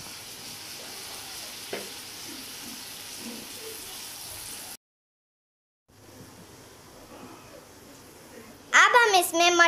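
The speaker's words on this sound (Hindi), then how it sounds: "अब हम इसमें ग्रीन चिली पेस्ट और अदरक डाल देंगे।" Green chili paste and ginger go into hot oil in a kadhai, giving a steady soft sizzle that cuts out briefly and then returns. A sharper, louder burst of frying sound comes near the end.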